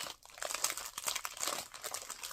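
Plastic packaging around a six-piece set of moulds crinkles as it is unwrapped, producing close, quiet, continuous crackling with irregular bursts and no talking.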